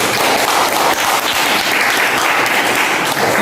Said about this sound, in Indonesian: Kita aplaus untuk kelompok 1